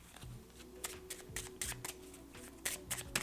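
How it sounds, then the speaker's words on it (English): Small deck of zodiac astrology cards being shuffled by hand, a run of crisp riffling slaps and snaps in quick irregular bursts, close and clear with no talking. "let me pull my little zodiac cards"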